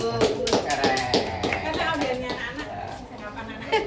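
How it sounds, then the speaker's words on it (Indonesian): Scattered hand claps from an audience with children at an ice-breaking class session come in an irregular, fairly close patter, while people talk over them. "Yuk, tepuk tangannya kepada yang mau maju"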